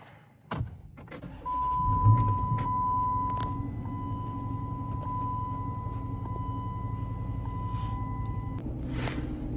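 A low-mileage Dodge Challenger R/T with 54,000 original miles fires up with a sharp burst, then settles into a steady idle rumble while a thin electronic chime tone beeps repeatedly in the cabin.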